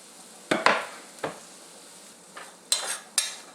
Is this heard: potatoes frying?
yes